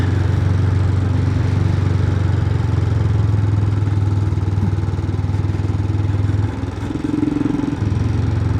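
A Royal Enfield Himalayan 411 motorcycle rides on a road after a valve replacement, its steady single-cylinder engine drone loud and continuous, with a brief dip and change in tone near the end as it shifts or slows.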